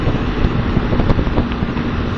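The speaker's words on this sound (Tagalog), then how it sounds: "Lakas ng motor ni Rider King yung ano." Broadband engine and wind rush from a motorcycle ridden on the road by a Lalamove delivery rider, a steady loud roar with buffeting wind noise throughout and no clear speech.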